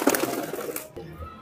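Pigeon, a large Sambhal-type Kaldume breed, gives a brief soft coo amid handling noise and rustle, close by, with no talk.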